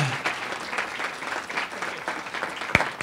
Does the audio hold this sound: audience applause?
yes